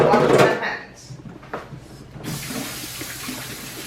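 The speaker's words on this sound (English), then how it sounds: "put this in the sink. I'm going to wash my hands." Water runs from a kitchen tap into the sink while hands are washed, a soft steady hiss that starts about halfway through and follows a brief clatter and a voice talking.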